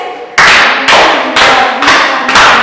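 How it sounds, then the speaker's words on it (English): Classroom pupils clap together for a classmate in five sharp, evenly spaced bursts of group applause, loud and close, with no talking over them. "How now clap for Ines?"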